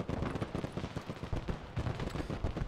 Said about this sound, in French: c'est normal, l'explosion de mon dépôt de munitions